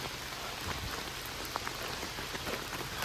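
Steady rain falls outdoors on a homestead, a dense continuous patter with scattered individual drops, fairly close and with no voices.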